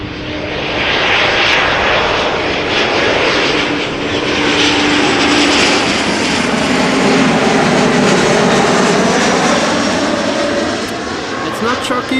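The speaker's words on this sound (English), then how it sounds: "Arriving from Basel, flying as KLM flight 1986, this Embraer" A KLM Embraer jet arriving at Amsterdam Schiphol makes a loud, continuous roar that swells and slowly shifts in pitch as it passes near, with a commentator talking over it.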